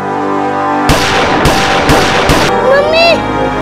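Four loud, close gunshots crack out in quick succession, each a sharp burst with a short ringing tail, in a tense television crime drama, followed by a fading tonal whine and a voice.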